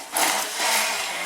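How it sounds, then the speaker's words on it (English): Chilled cream whipped with an electric hand blender gives a loud, continuous whirring buzz that swells twice in quick succession over just over a second. "Whip it with hand blender, electric beater or hand whisk."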